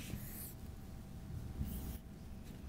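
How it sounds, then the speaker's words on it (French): A marker scratches a word onto a classroom board with short, soft squeaky strokes, faint and close over a low room hum. "Donc, on va écrire bravo, Moataz."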